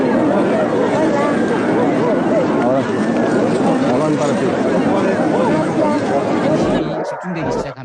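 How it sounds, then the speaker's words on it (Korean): A crowd suddenly breaks into loud cheering and excited chatter at a public encounter with footballer Cristiano Ronaldo, a dense, sustained roar of many voices that drops away abruptly near the end. "환호 소리가 갑자기 들려요."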